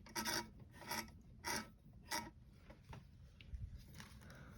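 Loose belt in a General Electric school bell mechanism rubbing and rasping in faint, repeated scraping strokes about every second, quiet and close.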